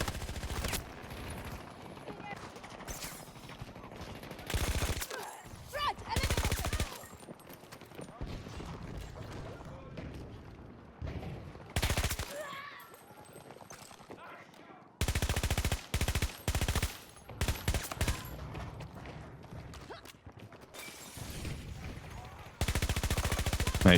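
AM40 assault rifle fire in a video game, repeated loud bursts of automatic shots broken by pauses, with speech in places.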